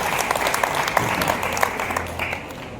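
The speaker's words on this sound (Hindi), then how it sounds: "इत्मीनान से हमारे बड़े भाई संदीप शर्मा जी के लिए तालियां जबलपुर निकल रहे ह" Audience members at a Hindi poetry recital held for Mahaveer Jayanti clap, with sharp, scattered hand claps running through a short burst of applause.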